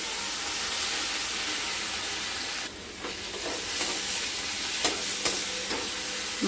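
Masala for egg pulao being stirred in a hot pan, a continuous loud sizzle with a few scraping strokes of the spoon near the end, no talk.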